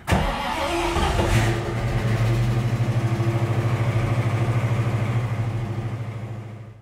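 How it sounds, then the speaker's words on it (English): A car engine is cranked by its starter after the battery was moved from the engine bay to the trunk, giving a steady, rapid rhythmic churning that runs for several seconds without catching, close and fairly loud. "let's go ahead and turn the motor over."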